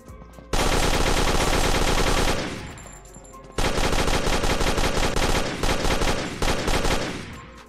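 Rapid automatic gunfire from the Aim Lab aim training video game comes in two long, loud bursts separated by a short pause, each made of fast repeated shots.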